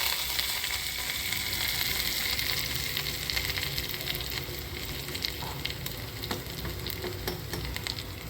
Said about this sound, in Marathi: हे कढीपत्ता टाकत आहे. आणि ही कोथिंबीर टाकत आहे.